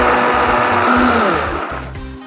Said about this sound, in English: Let's blend this.